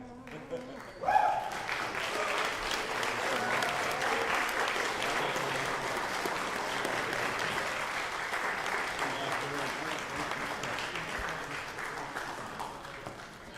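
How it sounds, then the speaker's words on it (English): An auditorium crowd at a seniors' final claps for the champions. Dense, continuous applause begins after a brief sharp sound and holds steady and fairly loud for over ten seconds, with a voice occasionally heard beneath it. "Keep clapping"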